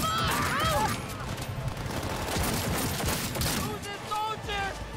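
Dense, continuous gunfire from a Cyberpunk 2077 firefight, with loud rapid volleys layered over one another and a voice heard faintly beneath the shooting.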